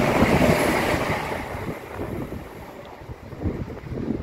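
A train passes through Lenzie station with a loud rushing roar and wind noise that fades slightly, then swells again near the end.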